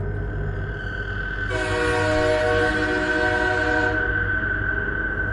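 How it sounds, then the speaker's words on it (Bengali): A train approaching along the rails sounds a long, loud sustained whistle blast over a steady rumble of rolling wheels, the whistle starting suddenly and holding for a few seconds before cutting off. "দূরে ট্রেনের হুইসেল শোনা যাচ্ছে"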